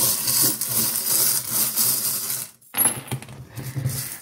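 Gris-gris charms rattling during a card-reading draw, a dense bright clatter of small objects shaking, then a brief pause before a second, choppier burst of rattling up close.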